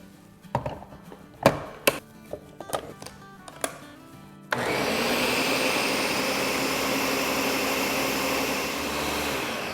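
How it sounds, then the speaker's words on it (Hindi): A few knocks and clatters come first, then a countertop blender roars to life, whirring loudly and steadily as it purées a tropical drink with condensed milk. "तो चलिए इसे हम ब्लेंड करते हैं।"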